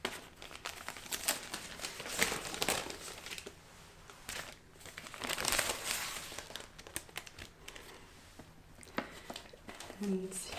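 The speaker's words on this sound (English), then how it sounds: "now it is time to unwrap it" Soft crinkling and rustling of wrapping and tissue as a new Hermès Mini Kelly bag is unwrapped, faint close handling noises in bursts with a quiet voice over them.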